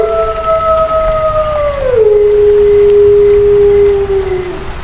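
Steady rain pours as a dark horror-night backdrop, with a long rising-and-falling howl-like tone drifting over the wash and settling into a sustained low wail; no one speaks.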